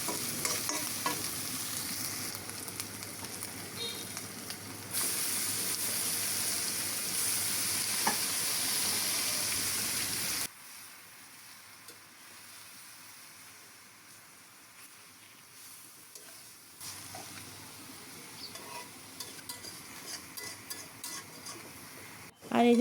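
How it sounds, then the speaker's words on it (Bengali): Fish seasoned with chili, turmeric and cumin frying in a pan, a steady loud sizzle with stirring that drops to a quieter, softer fry midway before picking up again; no talk. "মাছগুলোও দিয়ে দিলাম। একটু ভালো করে ভেজে নিতে হবে আর কি।"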